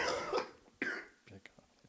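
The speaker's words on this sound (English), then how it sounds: "It's just a cough." A person's cough, a short throaty burst close to the microphone followed by a second harsher one, quiet overall with speech around it.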